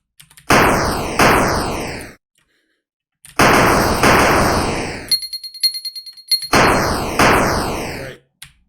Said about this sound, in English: Explosion.wave. I think we need that for when we shoot.